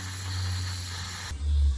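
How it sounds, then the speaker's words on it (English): Steam vents in a strong, steady hiss from a pressure cooker of just-cooked beans in a parking lot, loud and close, with a low rumble rising near the end. "we just gotta wait for the steam to finish venting over here"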